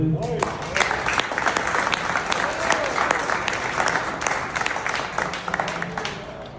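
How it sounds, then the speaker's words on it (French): Audience applause at an old-timers hockey tournament gathering in Victoriaville, steady dense clapping over about six seconds with some cheering voices mixed in the crowd. "Je pense qu'on peut les remercier et les applaudir."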